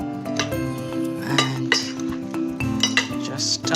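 Utensils clinking against a pan or bowl while fresh pappardelle is tossed in basil, parsley and walnut pesto, a run of close metallic chinks and scrapes over a steady tonal hum.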